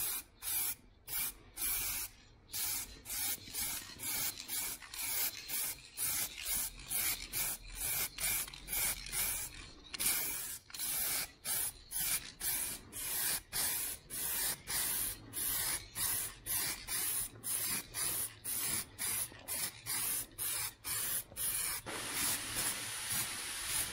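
Aerosol rattle can spraying a light dust coat of lacquer onto a car panel, delivered in many short, sharp bursts with brief gaps between them, loud and close, with no talking.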